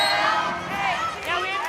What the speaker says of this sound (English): Crowd coming alive inside Freedom Hall.